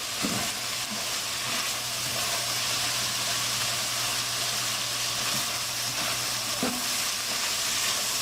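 Turtle meat for sauce piquant fries and is stirred in a pan. A dense, loud sizzle runs continuously, with occasional scrapes and clunks of the stirring utensil against the pan bottom.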